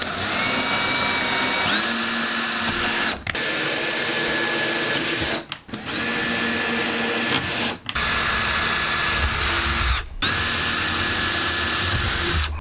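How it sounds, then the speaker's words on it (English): A power drill whines steadily through a boat floorboard, boring stringer holes in four long bursts separated by brief pauses, loud and close. "We've just got to drill some holes for where the stringers are"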